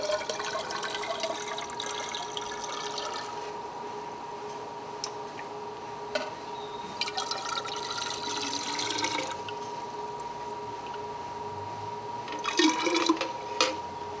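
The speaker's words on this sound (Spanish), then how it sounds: "Y ahora sí procedemos a vaciarlo o vertirlo en la probeta preparada o alistada para este ensayo" Soil and water slurry poured into a 1000 cc graduated cylinder during a hydrometer soil test, heard as a few separate bursts of splashing and trickling liquid. Quieter dripping and faint ticks fill the gaps between them, with no one speaking.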